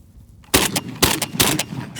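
Three sharp shotgun blasts crack close by in quick succession, each followed by a brief ringing tail, after a moment of near silence.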